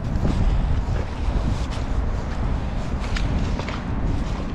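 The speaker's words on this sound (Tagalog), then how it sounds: "Malakas ang hangin dito." Strong wind buffets the microphone outdoors during a fishing outing, a loud, rumbling roar with gusty surges and faint handling knocks, no speech.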